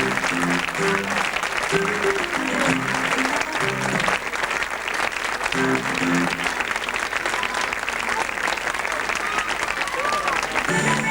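Theatre audience applauding at an amateur stage performance, dense steady clapping that fills the whole stretch, with a voice talking and some singing-like tones over it at times.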